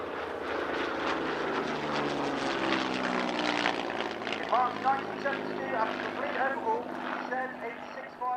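A lone BBMF Spitfire fighter flies a display at Cosford Air Show, its piston engine droning steadily overhead with a shifting, rising and falling pitch as it passes, loud and sustained throughout.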